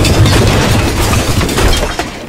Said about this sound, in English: they're mortaring our radio